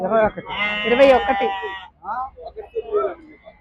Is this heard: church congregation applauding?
no